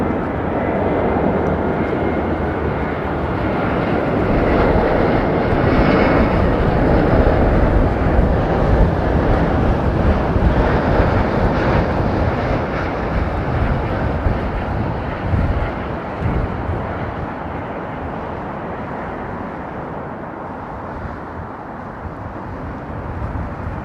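An Airbus A380 on arrival at Heathrow roars loudly and steadily as it passes close by, a broad, continuous jet-engine rumble with wind buffeting, slowly fading toward the end with no talking.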